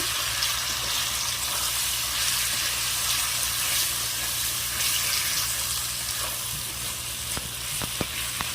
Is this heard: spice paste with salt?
yes